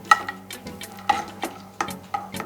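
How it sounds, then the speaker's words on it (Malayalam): Chopped cashew nuts fry in melted ghee in a pan, a soft sizzle broken by regular taps and scrapes of a spoon stirring. A steady tonal hum runs underneath. "ഇതിലേക്ക് ഞാൻ കട്ട് ചെയ്ത് വെച്ച കാഷ്യൂ നട്ടാണ് ആഡ് ചെയ്യുന്നത്."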